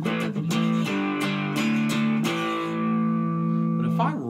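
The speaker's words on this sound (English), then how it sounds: "It's a hot pickup. And so when I turn it up, you get that distortion." A three-string cigar box guitar with a hot pickup turned up for distortion, several gritty strummed chords in quick succession, then one chord left ringing and sustaining before a final slide.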